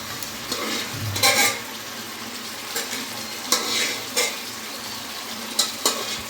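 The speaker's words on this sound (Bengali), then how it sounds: "আমাদের মটন কষা হচ্ছে দিদিভাই রান্না করছে" Mutton kosha being stir-fried in a pan gives a steady sizzle, with scraping stir strokes and occasional metal clinks of a spoon against the pan close by, and no talk.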